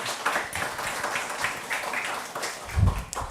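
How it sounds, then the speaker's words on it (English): Audience clapping for a presenter at a business analysis meetup in Krakow, a steady patter of many hands at moderate loudness throughout, with a low thump near the end. "Big applause for the Filip."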